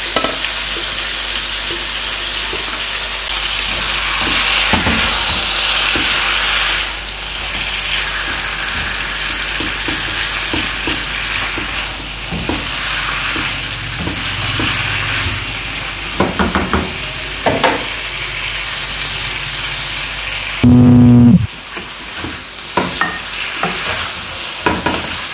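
Chicken frying in a pan for aloo chicken, being stirred: a steady loud sizzle and hiss with repeated scraping and clinking stir strokes, up close, with a brief louder clatter near the end and no talking.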